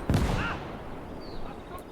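A cannon fires at a T-26 tank in the World War II game Gates of Hell: Ostfront, one sharp boom at the start followed by rumbling battle noise and distant whistling shells.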